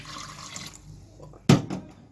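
About one and a half glasses of water are poured into a cooking pot of okra and beef stew: a soft hiss of liquid, then a sudden louder splash near the end, with no talking.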